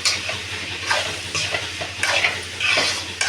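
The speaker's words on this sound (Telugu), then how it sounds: "ఇప్పుడు పప్పు వేస్తాను." Dal goes into a pan of cooking ridge gourd, carrot, tomato, green chilli and onion, stirred with repeated scraping strokes over a continuous soft sizzle, close and fairly loud, with no talking.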